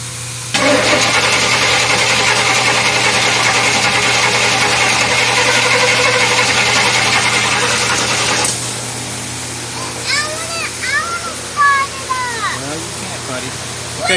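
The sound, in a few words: 1933 Buick engine cranking over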